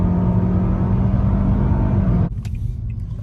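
A car engine with the front intake baffle installed, revved hard with the throttle floored, gives a loud, steady, close roar that drops off abruptly near the end, leaving a lower rumble.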